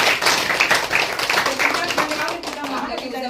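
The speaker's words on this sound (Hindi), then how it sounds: "पिता परमेश्वर के लिए जोरदार ताली बजाइए।" A congregation at a Christian worship gathering claps together, brisk overlapping hand claps filling the room while voices carry beneath and a tonal hum runs through the latter half.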